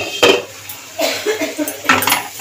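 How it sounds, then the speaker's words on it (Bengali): A cooking pot's lid is lifted while beetroot and carrot fry for vegetable chops, giving a few sharp metallic clinks and rattles close by, with the knocks spaced across a couple of seconds. "ঢাকনাটা খুলে দেখব,"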